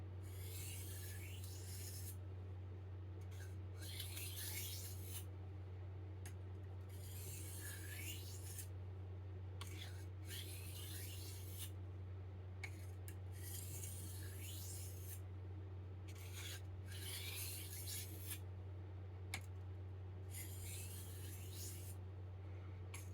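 A Farberware chef knife being sharpened on an Arkansas whetstone, close and quiet, with steady rhythmic rasping strokes of the blade against the stone, roughly one every one to two seconds, over a low constant hum.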